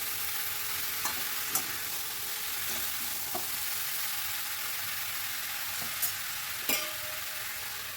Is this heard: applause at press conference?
no